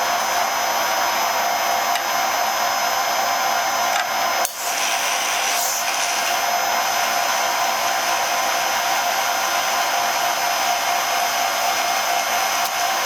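A carbide cutter milling a full depth cut in metal gives a steady, loud, continuous whine and hum, with one brief dip partway through and otherwise unchanging.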